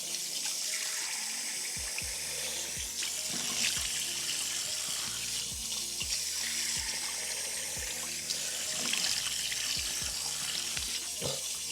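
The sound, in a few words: water running from tap while rinsing face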